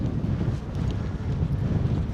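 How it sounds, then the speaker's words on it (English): Wind rushes across the microphone while riding a drop bar bike outdoors, a steady low roaring buffet with no other sounds standing out. "the wind has almost blown me off the bike several times."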